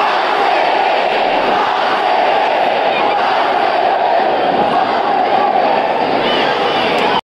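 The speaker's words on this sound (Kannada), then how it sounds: "ಯಾವುದೇ ಕ್ರೌಡ್ ಇದ್ರೂ ನಮ್ಮ RCB ಚಾಂಟಿಂಗ್ ಮಾತ್ರ ಖಂಡಿತವಾಗ್ಲೂ ಇದ್ದೇ ಇರುತ್ತೆ" A loud, dense college fest crowd at Malnad fest 2023 roars and shouts continuously, a sustained wall of cheering and chanting voices close by with no break.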